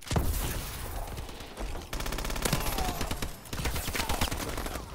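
Rapid pistol gunfire from dual-wielded pistols in Call of Duty: Advanced Warfare, a dense, loud stream of shots with brief pauses, heavy and continuous.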